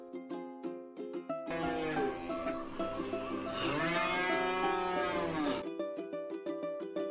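A cow moos in a long, loud, drawn-out call lasting several seconds, set between stretches of light music.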